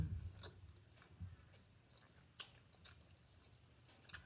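Close, quiet chewing of a bite of ribeye steak with steak sauce, soft moist mastication with a few faint clicks and crunchy ticks spread through the stretch, no talking.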